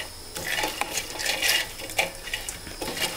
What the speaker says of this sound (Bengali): হলুদ আর লবণ দিয়ে মাছ মাখি ভাজে রান্না করবো